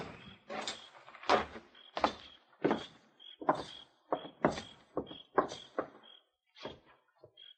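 Front door opening as men walk inside in a 1955 Gunsmoke radio drama, heard as a steady run of close, regular thuds and footfalls with creaks between them, with no voices.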